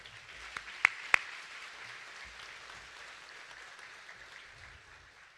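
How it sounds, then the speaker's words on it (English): An audience at a Texas Rodeo Cowboy Hall of Fame ceremony applauds past scholarship recipients: a steady, even wash of clapping, with a couple of sharp, louder claps standing out near the start. "Let's quickly give one round of applause to all of our past scholarship recipients."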